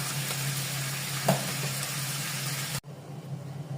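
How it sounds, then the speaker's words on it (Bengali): Washed dried fish (shutki) sizzles steadily in a hot frying pan, a close, even crackle that stops abruptly near the end, leaving a quieter background. "পিঠা দিয়ে খাওয়ার জন্য শুটকিগুলি এখন ধুয়ে ভেজে নিচ্ছি।"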